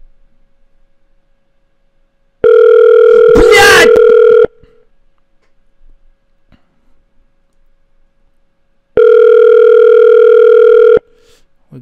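Ringback tone of an unanswered phone call: two long, steady electronic rings separated by several seconds of near silence, loud and close, with a brief rustling noise during the first ring.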